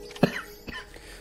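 A single sharp cough sounds close and loud, followed by a softer throat-clearing catch a moment later.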